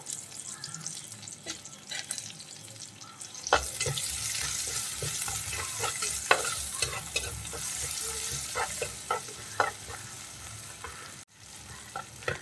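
Curry leaves hit hot oil in a pan for a Kerala fish curry, a quiet start giving way to a steady frying sizzle with sharp crackles and pops. Stirring noises come and go throughout, with no voices.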